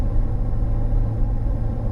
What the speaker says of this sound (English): That turbo brake really works really well.